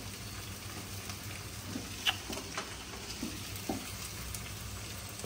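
Cauliflower cooks in a pan, giving a faint, steady sizzle with a few soft ticks and pops scattered through it.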